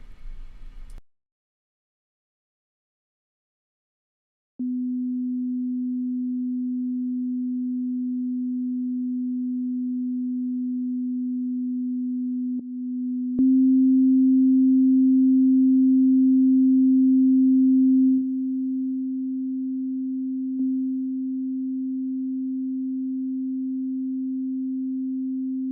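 Pure sine tones on an up-tuned note, first a single steady hum, then a second one joined in so the two sound together, brighter and slightly thicker, then back to a single steady tone; clean and continuous with no talking.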